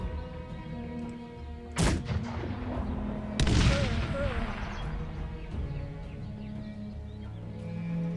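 Two heavy cannon shots from Cossacks 3 artillery crack out a couple of seconds apart, each a sharp loud blast with a rumbling tail, over a steady hum of battlefield game ambience.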